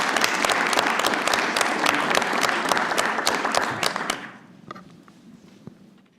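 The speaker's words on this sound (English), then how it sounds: "Let's give all of them a big round of applause." Audience applause fills a city council chamber, a dense steady clatter of many hands for about four seconds, then thinning to a few scattered claps and fading out.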